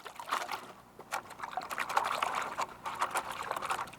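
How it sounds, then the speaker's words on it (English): Water sloshing and splashing in bursts as a circular gold pan is shaken in a stream at Oroville, California, close and fairly quiet, with irregular rhythmic swishes and small trickles. "Now I'm gonna put this down in the water, put some water in this pan, and shake it"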